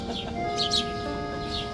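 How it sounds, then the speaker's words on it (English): Small birds chirp around croissants and food at a Montreal bakery, several faint, quick high tweets scattered over a low steady background hum. "Bad birds. And they're everywhere."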